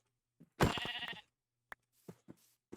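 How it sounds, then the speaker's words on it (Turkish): A Minecraft sheep lets out a loud, wavering bleat lasting about half a second, followed by scattered soft game noises and a few light clicks. "iki tane koyun buldum."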